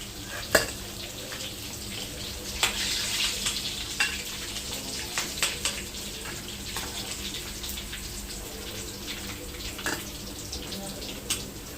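Double-coated chicken lollipops deep fry in hot oil, giving a steady dense sizzle and bubbling throughout with occasional clicks and taps of a utensil, close and continuous, with no talk over it.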